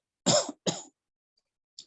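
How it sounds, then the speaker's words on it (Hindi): Two close, sharp coughs in quick succession, then silence and a faint third catch of breath. "सॉरी सर, खांसी आ रही थोड़ी।"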